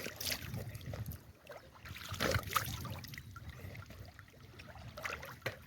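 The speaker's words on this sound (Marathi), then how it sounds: "तर यामध्ये आपण तोंड धुवूया." A person washes their face with cold, clear water from a stream near a waterfall, giving soft, quiet splashes and trickles in brief bursts over a low, steady water background, with no talking.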